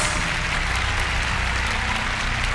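Loud, steady applause from a concert audience fills the space, a dense continuous wash of clapping with no voices standing out.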